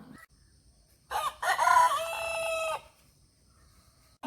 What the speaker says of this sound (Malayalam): നമ്മളെ വാലൊടിഞ്ഞ പൂവൻ ഇപ്പോൾ കൂവി തുടങ്ങിയിട്ടുണ്ട്